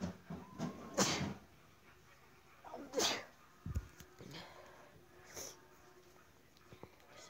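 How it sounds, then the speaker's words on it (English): A single sharp sneeze bursts out near the microphone, followed by a few sniffs and small snorting breaths against a quiet background. "Oh, I need to sneeze."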